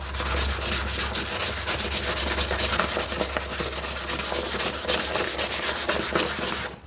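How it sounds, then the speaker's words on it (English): A wooden hatchet handle is sanded with 320 grit sandpaper in quick, even back-and-forth strokes. The rubbing is close and fairly loud, with no voices, and it stops abruptly at the end. "So all I do is go once over it with this 320 grit just to smooth everything back out."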